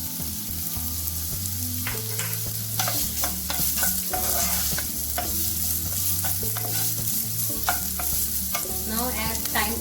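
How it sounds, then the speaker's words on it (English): Ginger and green chilies sizzle steadily in a hot pan while a spoon stirs and scrapes through them, with clinking strokes at irregular intervals over the constant close frying hiss. "ginger, add green chilies,"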